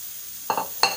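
Guar beans and potatoes tipped into a pan of tomato masala land with a quick clatter and a burst of sizzling, a couple of close, sharp scraping hits within a second and no talking.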